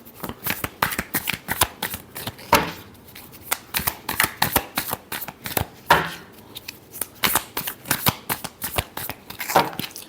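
Tarot cards being shuffled by hand in a long run of quick riffling and slapping bursts, close and steady, with no talking.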